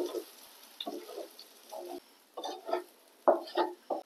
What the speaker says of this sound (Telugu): ఇప్పుడు ముందుగా మిక్సీ పెట్టుకున్న పొడి వేసి కలుపుకోవాలి